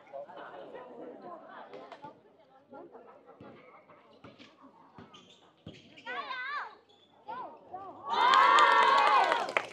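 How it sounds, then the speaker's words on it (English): Crowd at a village basketball game in Batang Village, YunFu, China, with scattered children's voices and chatter, ball bounces, then a loud sustained cheer swelling near the end. "the white team get a fair cheer as well"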